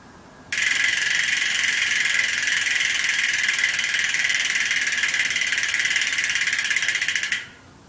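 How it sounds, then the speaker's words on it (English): A freewheeling rear hub on a Cannondale CAAD10 road bike with Williams wheels buzzes in a steady, crisp high-pitched whir, close up, starting abruptly and running evenly for several seconds before fading out. "how crisp the rear wheel sounds when it's spinning freely"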